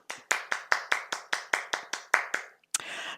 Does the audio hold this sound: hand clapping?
yes